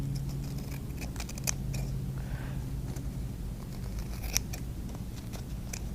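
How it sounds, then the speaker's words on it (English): Scissors cut a star shape out of craft material for a shiny ornament, producing soft, close snips and crisp clicks spaced irregularly over a low steady background hum. "Now that is much easier for me to cut this star out."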